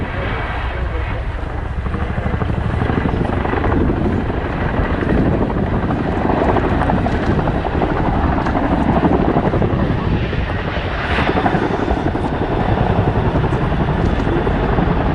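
A military transport helicopter with a rear loading ramp performs a nose-down quick stop at the RAF Fairford air show, its heavy rotor thump pulsing steadily and loud throughout while an announcer talks over it.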